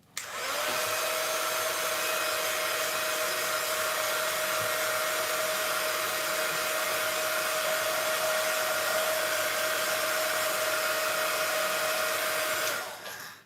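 A heat tool blows continuously on stamped ink on a card, a steady whirring hiss with a fixed whine, close and uninterrupted for about twelve seconds before switching off.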